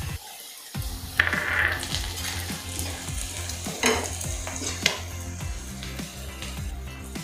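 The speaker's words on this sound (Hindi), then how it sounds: "अब हम ऐड कर लेंगे पनीर।" Paneer cubes for hotel-style chilli paneer go into a pan of fried onions, setting off a low sizzle punctuated by a series of sharp metallic clinks and taps from a stirring utensil against the pan.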